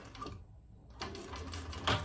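Sewing machine top stitching a wallet flap in short bursts, rapid mechanical chatter stopping briefly then resuming, close and fairly quiet.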